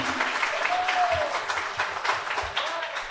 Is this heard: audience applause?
yes